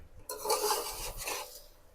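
Rice is stirred into fried masala in a pot for beef yakhni pulao, giving one short, close scraping and rustling sweep against the metal, with no talk.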